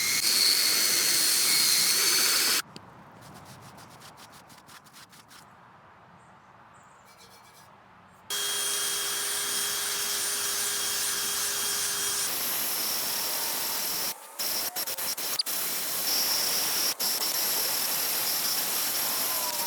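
A drill fitted with a metal stripping disc grinds rust off a cast iron pan in loud, steady whining bursts, dropping away for a few seconds partway through before the grinding resumes.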